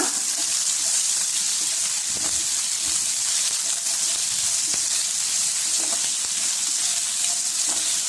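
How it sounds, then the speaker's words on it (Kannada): Two chopped onions fry in hot cooking oil in a pan, giving a loud, steady, close sizzle and hiss that runs throughout with faint stirring ticks and no voices. "ಅದಕ್ಕೆ ನಾನು ಏನು 2 ಈರುಳ್ಳಿನ ಹೆಚ್ಚಿಟ್ಕೊಂಡಿದ್ದೀನಿ ಅದನ್ನು ಹಾಕ್ತಾ ಇದ್ದೀನಿ. ಇದು ಸ್ವಲ್ಪ ಸಾಫ್ಟ್ ಆಗೋ ತನಕ ಹುರ್ಕೊಳ್ಳೋಣ."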